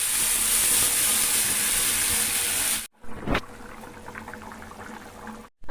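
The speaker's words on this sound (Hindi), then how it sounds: "अब इसमें हम ये चावल और पानी" Boiling liquid in a pot after rice and water are added to fried onion, potato and spices, a steady loud bubbling hiss that breaks off midway, followed by a brief clatter and quieter simmering.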